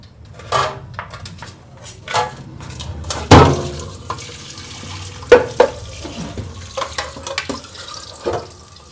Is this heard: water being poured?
yes